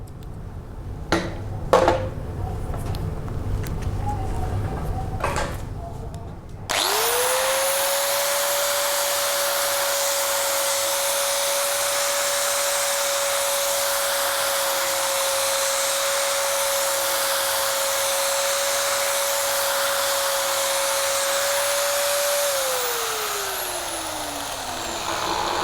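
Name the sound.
angle grinder with Mini-Turbo plane running on emery cloth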